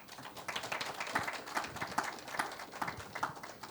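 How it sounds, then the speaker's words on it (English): Audience applause for the panelists at a green financing seminar, a steady crowd clapping of moderate loudness that holds evenly for several seconds without speech. "I think our panelists deserve a round of applause"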